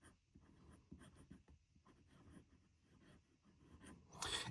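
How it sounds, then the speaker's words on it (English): An 18K gold medium nib on a Parker Sonnet fountain pen scratches steadily across paper in close, quiet strokes, with a brief louder rustle at the end. "today we are writing with an 18 karat gold medium nib"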